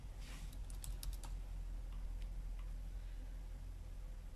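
Brief quick clicks of typing a short name on a computer keyboard, a handful of close keystrokes at the start over a steady low hum, then quieter isolated taps.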